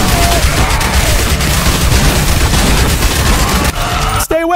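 Sustained rapid SMG fire from the zombie survival video game Yet Another Zombie Survivors, a dense loud continuous stream of shots with game effects layered underneath, ending in a sharp burst near the close.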